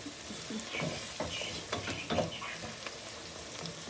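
Kyrgyz plov with meat frying and being stirred in a pot, a steady sizzle broken by scattered scrapes and clicks of the spoon against the pot.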